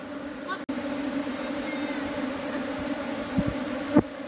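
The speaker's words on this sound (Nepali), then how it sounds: "यसरी आउँछ है मौरी आएपछि।" A swarm of honeybees arriving, a steady low buzzing drone filling the background with a few faint thumps, no clear speech.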